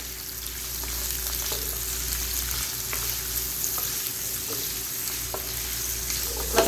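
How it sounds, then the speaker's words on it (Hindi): Sliced onions sautéing in a pan for a dhaba-style karela pyaz dish, a steady close sizzle with occasional stirring scrapes, no talking. "मैं प्याज को हल्का सा ही सौते करूँगी"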